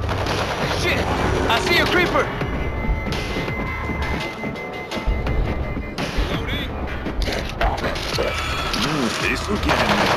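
Rapid automatic gunfire from a deployed auto turret in World War Z on Nintendo Switch, a dense continuous rattle of shots across the whole stretch with a brief lull midway, amid game noise and voices.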